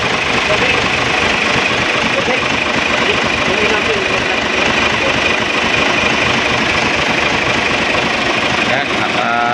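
An Isuzu 6WG1 diesel engine idles loud and close after a cylinder head installation, running as a steady dense rumble with a fine rhythmic clatter throughout.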